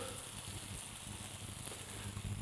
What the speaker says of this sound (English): In with your bananas. We're going to caramelize those up.